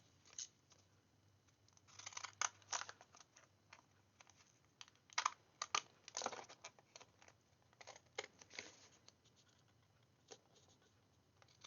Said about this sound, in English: I'm going to take my fancy scissors